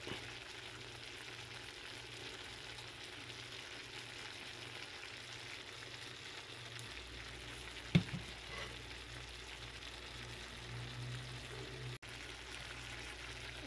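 Shrimp sizzle steadily in a hot pan, a continuous even frying hiss at moderate level with one brief clink partway through and no talking.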